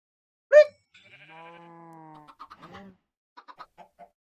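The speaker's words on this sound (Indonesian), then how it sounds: "Yang rame-rame itu mana ayamnya?" Minecraft chickens cluck and squawk in a quiet game scene, a sharp opening squawk followed by a drawn-out call and a few short scattered clucks.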